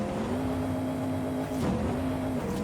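A dually pickup's engine in Forza Horizon revs steadily at a sustained moderate pitch, briefly dipping mid-way before climbing back, heard close and continuous.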